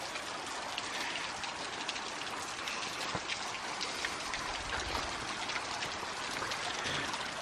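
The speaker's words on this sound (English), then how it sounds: "Love these rock bottom creeks." A shallow creek runs over a rock bottom in Bankhead National Forest, Alabama, giving a steady, close, broadband wash and trickle of water with no pauses and no voices.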